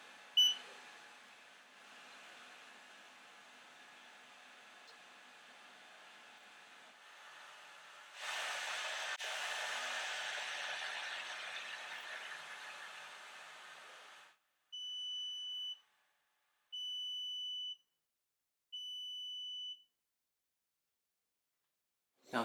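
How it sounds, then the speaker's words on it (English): Creality CV-01 Pro compact laser engraver at work: a steady, soft fan-like hiss swells into a louder broadband whir mid-way, then three short, evenly spaced high electronic beeps follow near silence. No one speaks. "I'll press the button again and it will start engraving."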